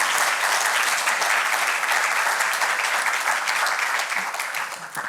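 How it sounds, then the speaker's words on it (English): Loud, dense audience applause for the panelists of a Web3 career opportunities panel, sustained throughout and easing off near the end. "Please give great applause to all of them."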